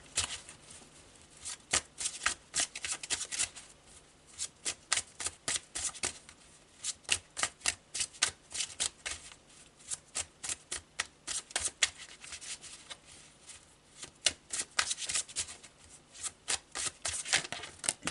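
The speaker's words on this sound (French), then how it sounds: "Je vais demander quelques cartes du Marseille." A deck of Marseille tarot cards is shuffled over and over, giving repeated dense bursts of riffling, flapping card sounds in an uneven rhythm, close and fairly loud, with no talking.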